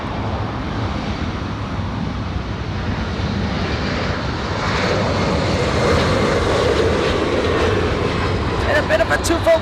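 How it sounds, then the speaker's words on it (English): A Delta jet airliner bound for Boston roars steadily on its takeoff run at LAX, loud and sustained, with someone talking over the engine noise. "Let's go take a look at Delta heading to Boston. Already cleared for takeoff."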